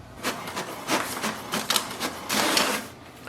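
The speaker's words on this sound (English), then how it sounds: "Printer will print the printer information page." HP Deskjet 2923 printer printing its information page, a rapid series of mechanical whirring and clattering passes from the print head, close and moderately loud, with no talking.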